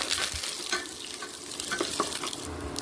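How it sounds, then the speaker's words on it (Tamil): Cumin seeds and asafoetida fry in hot oil in a pan for a Tamil paruppu sadam tempering, giving a continuous bright sizzle with scattered sharp pops and splutters up close. "நெக்ஸ்ட்டு வந்து சீரகம், பெருங்காயம். ஓகேவா? நல்லா வந்து பொரிஞ்சிட்டு"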